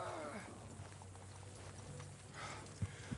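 Hooves clop steadily as a horse walks in the Western video game Red Dead Redemption, a muffled rhythmic beat with faint game voices and ambience around it.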